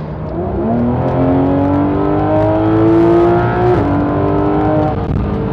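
A Porsche 911 GT3 RS (991.2) engine revs hard to 8000 rpm, rising in pitch steadily and loud and close, with a brief dip near the top before holding and fading.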